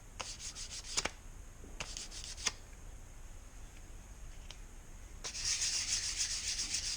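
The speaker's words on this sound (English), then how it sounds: "You don't have to do a whole lot, just a little bit of sanding." Short strokes of hand sanding along the edge of a wooden coaster, a few separate scrubbing passes in the first seconds, then a steadier, louder rub near the end, close and alone in a quiet room.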